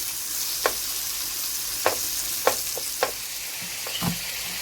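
Food frying in a little oil in a pan, a low steady sizzle broken by sharp scraping clicks of stirring at irregular intervals.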